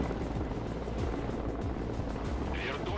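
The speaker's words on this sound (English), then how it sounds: "we've got another chopper coming in" Helicopter rotor noise from the real-time strategy game Broken Arrow, a steady low chop with rhythmic thumping that holds at a constant, fairly loud level as a chopper comes in during combat, with no speech over it.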